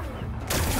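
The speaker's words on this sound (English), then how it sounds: "Gotta blast away some rocks." Rock blasting in Horizon Forbidden West: after a low rumbling lead-in, a loud broadband burst of crumbling, exploding stone hits about halfway through and keeps roaring to the end.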